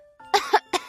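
A narrator's voice imitates a flower coughing in a reading of The Little Prince, giving a quick series of short, dry cough bursts close to the listener.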